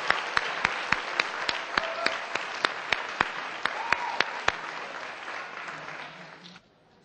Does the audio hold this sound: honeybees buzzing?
no